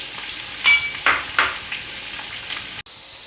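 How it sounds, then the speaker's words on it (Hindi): Onions frying together with lightly browned chicken in a pot for chicken pulao make a close, steady crackling sizzle, punctuated by a few louder stirring bursts and a brief drop near the end. "प्याज को हम अच्छे तरीके से इसके अंदर फ्राई कर लेंगे"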